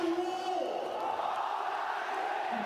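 Large basketball arena crowd at a FIBA Asia Cup qualifier between China and Guam, cheering and roaring loudly and steadily, with the noise echoing through the hall.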